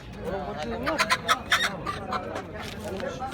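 Clucking chickens and crowing roosters in a busy market in Kırıkkale, Turkey, with people talking nearby and bird calls rising in short bursts over the chatter.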